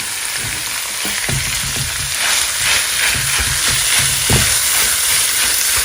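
Ground pork browns in a pan for a Filipino goat lung bopis, giving a steady close sizzle and crackle with occasional stirring scrapes running throughout.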